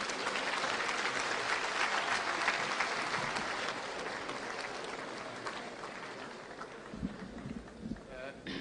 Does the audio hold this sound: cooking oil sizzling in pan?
no